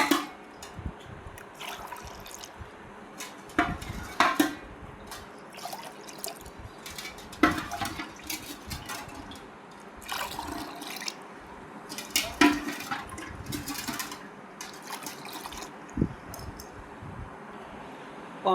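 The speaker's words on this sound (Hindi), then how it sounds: "अब पानी डाल देंगे" Water drips and splashes into a thandai drink mixture in irregular bursts, with occasional clinks, fairly quiet and close.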